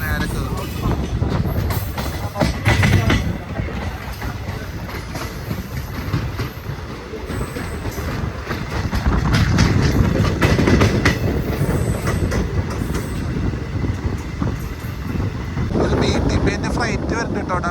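A Nilambur–Palakkad passenger train runs loudly on the rails close by, a continuous rumble with rhythmic clatter and brief squeals, while people talk over it.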